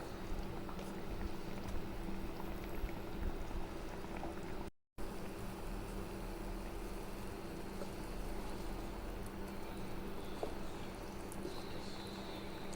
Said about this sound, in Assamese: লাহে লাহে সিজিছে।